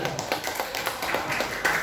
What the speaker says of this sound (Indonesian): tepuk tangan untuk Bu Nani